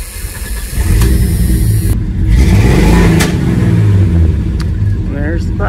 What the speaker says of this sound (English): So we're definitely getting backfires, lack of combustion somewhere.